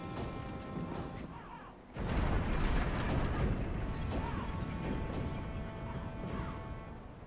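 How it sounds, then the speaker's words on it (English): A giant harpoon launches from a mechanism in the Demon's Souls dungeon, a sudden heavy crash followed by a sustained rumbling, metallic roar that lingers for several seconds. "a giant harpoon comes firing out of there just to ward us off"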